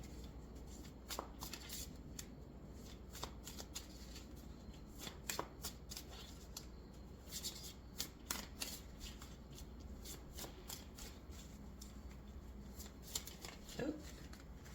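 A deck of cards being shuffled in a quiet room, soft riffling bursts and light slaps repeating irregularly, faint and close, with no talk.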